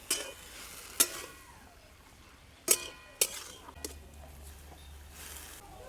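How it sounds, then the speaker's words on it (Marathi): Ground spice masala being stirred into cooking vegetables in a kadhai, with a few sharp clinks of the spoon against the pan over a quiet, low sizzle; no talking. "कुटून घेतलेला मसाला चांगला मिक्स करून घ्यायचा आहे भाजीमध्ये"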